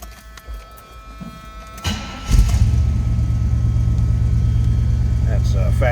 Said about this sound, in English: Let's go ahead and start this up.